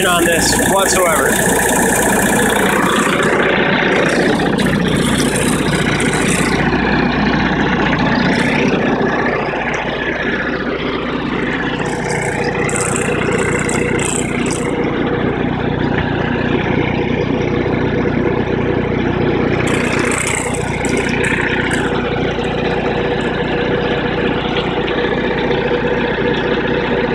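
A MEP-802A military diesel generator runs steadily and loudly at close range, a constant mechanical drone with a low hum, while someone talks over it throughout.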